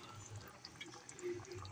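Water poured into a cooking pot while making a chicken pot casserole, a soft continuous splash and trickle at low level with faint kitchen background.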